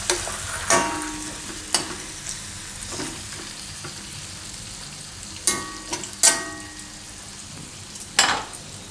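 Aloo baigan paleeta curry of potato and brinjal, with curd and coriander added, stirred in a pan over a very low flame: a soft steady sizzle broken by several sharp spoon scrapes and clinks against the pan.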